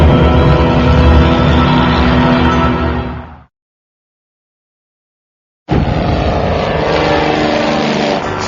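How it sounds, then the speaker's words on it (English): A crop duster airplane's propeller engine drones loudly and steadily, then cuts out abruptly into about two seconds of silence before the engine roar returns at full strength and holds. "airplane is stuck in an uncontrollable dive"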